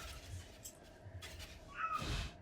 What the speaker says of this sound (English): My cat is screeching.